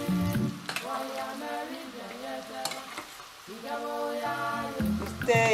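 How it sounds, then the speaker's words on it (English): Coated peanuts fry over moderate heat in a pan, a soft crackling sizzle broken by repeated scraping and clattering strokes of a spatula stirring them, close and without talk. "You stir it, fry it till it's golden brown."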